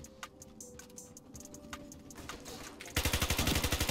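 Rapid bursts of PP90M1 submachine gun fire from the shooter game Ironsight come in about a second before the end. They are preceded by quieter clicks and faint game sounds, and the steady automatic chatter is loud and close.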